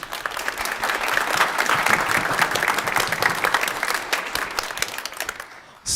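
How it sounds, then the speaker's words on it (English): A concert audience after a Christmas wind band performance breaks into sustained, dense applause that holds steady, then fades and stops abruptly near the end. "So a round of applause for them, please."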